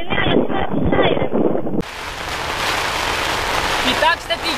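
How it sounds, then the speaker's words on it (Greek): Heavy thunderstorm rain pours down in the Democratic Republic of the Congo, a dense broadband hiss with wind buffeting the microphone, following a stretch of talk at the start. "τώρα έχει ξεκινήσει μια τρομερή καταιγίδα"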